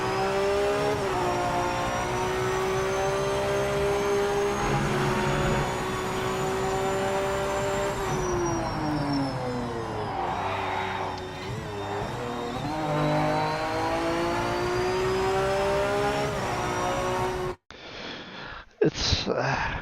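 A GT Porsche race car engine in the Project Motor Racing video game drones loudly at steady high revs with a brief dip in pitch, then cuts out into short bursty noises near the end.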